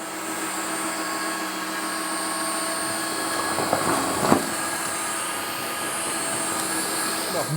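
Dreame H14 wet-dry vacuum cleaner sucking up a broken egg on the floor, a loud steady motor whine with a brief gurgling surge of suction partway through.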